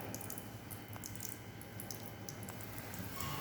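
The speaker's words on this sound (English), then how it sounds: "Then again wash with water" Tap water running over a microscope slide during Ziehl-Neelsen staining, a steady close stream of splashing water that continues through the whole clip without pause or speech.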